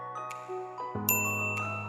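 A short chiming notification bell effect rings out in a quick tinkling sequence of bright tones, clean and close with no voices.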